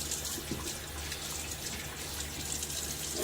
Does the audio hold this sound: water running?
yes